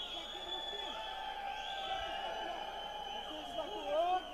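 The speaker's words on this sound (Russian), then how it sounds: "Да, слышим мы туркменских болельщиков." Turkmen fans at an MMA fight cheer and whoop from a distance, a faint crowd roar with rising shouts and whistles in a large arena.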